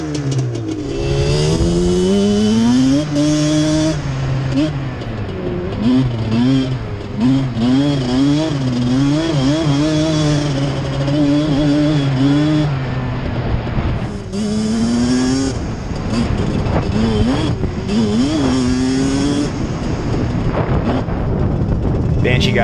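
A Yamaha YFZ450 ATV fitted with a Banshee two-stroke engine and Toomey exhaust pipes, loud, close engine revving with repeated rising and falling throttle blips and wavering pitch, some wind buffeting and faint voices underneath.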